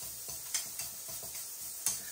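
Ginger and garlic dropped into a hot pan, a soft continuous sizzle with a few light clicks and taps of a utensil against the pan, close and quiet.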